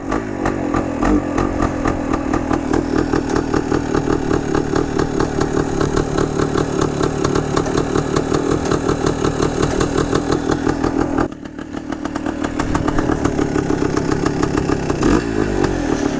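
A 1971 Yamaha RT1 360 motorcycle engine runs loud and close with a steady, buzzy two-stroke rhythm, a brief dip near the end before the revs pick back up.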